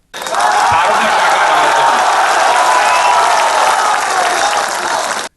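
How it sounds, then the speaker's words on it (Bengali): Dense applause from BJP party workers and supporters, a sustained wall of clapping and crowd noise that starts abruptly, holds steady and loud for about five seconds, then cuts off. "এরপরই হাততালিতে ফেটে পড়েন বিজেপির কর্মী সমর্থকেরা।"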